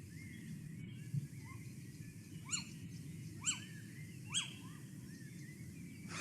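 A recorded small owl calls with three short, sharp rising-and-falling notes spaced about a second apart, fairly faint against a steady low background hiss, with no voices.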